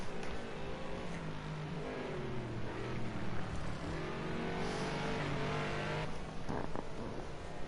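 GT3 race cars, including a Bentley, race around the Indianapolis road course in a racing video game, with engine notes rising and falling through gear changes and a constant loud roar filling the whole stretch, no voices.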